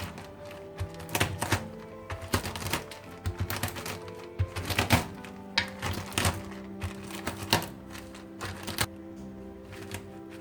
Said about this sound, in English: Now take your rolling pin and crush it.